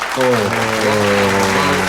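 Brief burst of clapping from a crowd at a Betawi family celebration, loud and close, with a voice and musical tones sounding under it.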